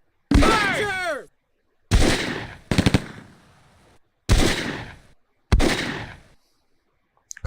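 Machine gun fire from the PC game Close Combat comes in five separate loud bursts of rapid shots, each followed by a decaying echo and short silence, with a shouted voice at the start.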